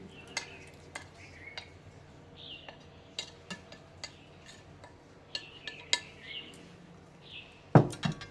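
A spoon stirs a homemade protein powder drink in a glass, repeated sharp clinks and taps at an irregular pace with a louder clatter near the end, close by and fairly quiet.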